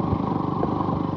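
A motorcycle engine runs steadily close by with a rough, rhythmic mid-pitched thrum, loud and unbroken, on a road outing for two riders on one bike, with no talk.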